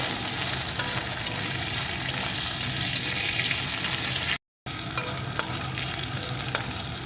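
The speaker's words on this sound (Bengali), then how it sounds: "আদাটাও একটু নাড়িয়ে নেব" Crushed ginger and garlic fry in hot oil in a pan, giving a continuous close sizzle with light stirring clicks for an egg-potato dal, broken by one brief silent gap.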